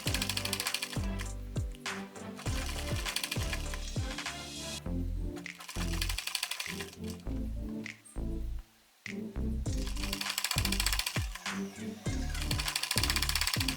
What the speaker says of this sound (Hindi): तो यहाँ पे हम सिलाई ले लेते हैं।